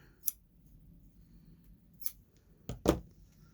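Scissors snip through a scrap of green paper in a few quick, close cuts, one isolated near the start and a tight cluster toward the end, against a quiet room.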